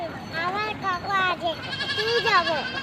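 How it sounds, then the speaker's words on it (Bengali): Goats in a field bleat several times in quick, wavering calls, near and fairly loud, with a short pause before a longer quavering bleat at the end. "ওই দেখো ছাগল, শোনো ছাগল।"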